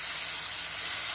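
Onions sauté in a pan with a steady, close sizzling hiss that carries on evenly.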